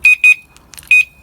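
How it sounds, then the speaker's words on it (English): Passive van alarm being armed by remote, giving three loud, clear electronic beeps of equal pitch, the first two close together and the third after a pause, with faint clicks in between. "So that's passive alarm on remote, of course."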